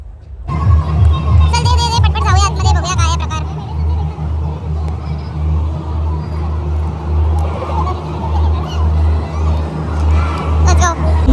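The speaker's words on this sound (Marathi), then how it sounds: "गर्दी तर प्रचंड आहे." Huge crowd hubbub at a bhajan jamming event, a dense steady babble of many voices with traffic-like rumble underneath, loud and close throughout, with brief higher calls rising near the start.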